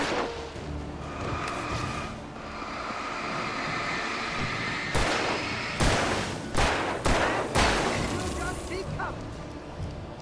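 Gunfire in the Alan Wake video game: several loud, sharp shots come in a quick cluster late on, over a steady bed of game ambience and background noise.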